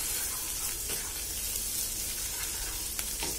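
Kachori filling frying in a pan, a continuous bright hissing sizzle with faint stirring scrapes, steady and close with no voices.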